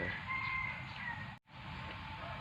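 Chickens in a rural Thai farmyard, heard as faint, distant clucking over a steady background hum, with no talk.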